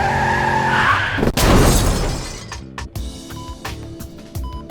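A car collides with a tractor pulling a slurry tanker on a country road: a loud skid and heavy crunching impact with shattering, followed by scattered clinks and rattling debris settling.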